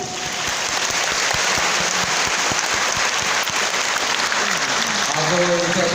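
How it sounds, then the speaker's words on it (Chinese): Loud audience applause at a large anniversary thanksgiving ceremony, a dense sustained roar of many hands clapping close by, with a voice speaking over it near the end. "让我们给自己热烈的掌声。"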